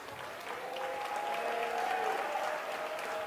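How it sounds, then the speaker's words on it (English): Round of applause from a crowd at a tribute gathering, sustained clapping at moderate distance with a faint tonal hum underneath and no talk. "your brother, a nice round of applause for Ali the Great."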